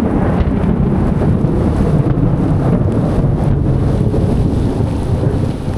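Steady heavy rain falls over a field, with a loud continuous rumble of thunder throughout and gusting wind buffeting the microphone; no voices are heard.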